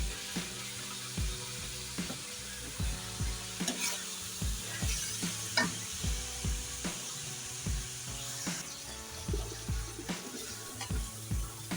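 Chopped vegetables, pre-soaked in water, go into a chicken and kadu curry gravy in a pan and are stirred, giving a steady close sizzle with repeated scraping stir strokes throughout, no speech.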